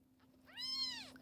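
A small female kitten gives one drawn-out, rising-then-falling meow while being held, clear and close in a quiet room.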